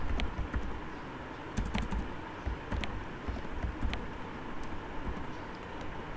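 Code typed on a computer keyboard, a steady patter of key presses with occasional louder strokes, fairly close, over a constant low room rumble with no talking.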